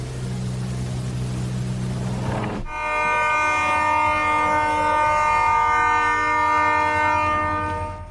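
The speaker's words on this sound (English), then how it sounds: "the train was able to stop in time, with no injuries reported following the collision" A train on a track where a vehicle is stuck, braking before a collision: a low rumble gives way to a loud, sustained multi-tone horn blast with steady screeching overtones lasting several seconds, close and continuous.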